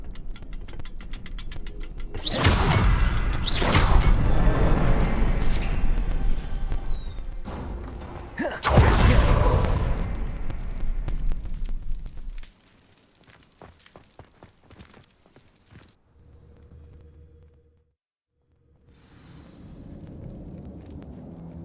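A Confringo fire spell in a Harry Potter game bursts in heavy blasts, two big booming roars with rumbling tails in the first half, then quieter scattered thuds and a low hum afterward.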